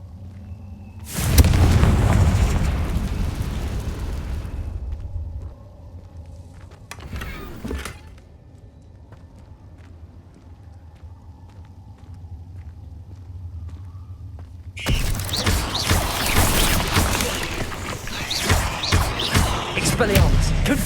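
Confringo spell explosions from Hogwarts Legacy: a loud blast with a rumbling tail, a short sharp burst a few seconds later, and then a long, dense stretch of fiery bangs near the end. A voice calls out spells between them.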